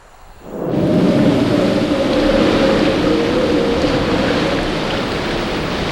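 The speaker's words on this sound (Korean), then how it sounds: "장마가 시작돼 태풍 올가가 상륙하면서 한강 하류에 홍수주의보가 내렸다" Monsoon rain and a thunderstorm sweep the Han River's Bamseom islet as Typhoon Olga makes landfall: a loud, dense roar of heavy rain swells in quickly after a quiet opening and holds steady and close.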